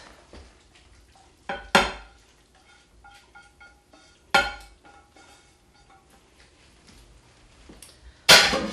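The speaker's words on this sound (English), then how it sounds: "3 cups of cooked wild rice. And we're going to toss in our sauteed vegetables." Sauteed vegetables are tossed into cooked wild rice in a quiet kitchen, with a few sharp clanks of a spoon against a pot or bowl and soft scraping between them.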